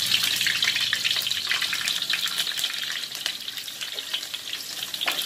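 Banana flower fries in a pan while being stirred and turned, a dense, continuous close-up sizzle with light scraping and crackle running the whole time.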